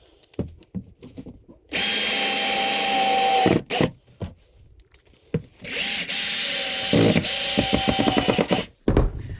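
A power drill drives screws into a toilet flange, with two long, loud whirring bursts separated by short clicks, handling noises and pauses, heard up close without speech.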